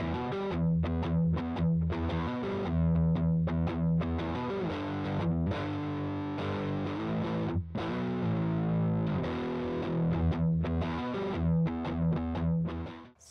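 Electric guitar through the Archetype amp with the Big Rig Overdrive engaged, playing a gritty, distorted riff of chords and single notes with chorus-like shimmer, steady and loud throughout with no talk.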